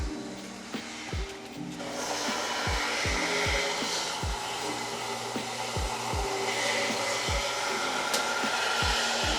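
Electric cooling fans on a 1967 Pontiac GTO run with a steady whirring hum and a regular low thumping pulse about twice a second, close and continuous.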